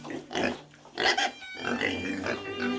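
Pigs being transported to a processing plant, grunting and oinking close by in several short bursts, some squealing higher, with brief gaps between calls.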